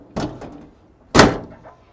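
A drawer thuds shut twice, a softer knock first and then a louder, sharper bang about a second later, close by with no voices.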